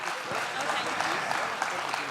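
A steady wash of applause from a blockchain conference audience during a prize presentation, continuous and moderately loud, with voices mixed in.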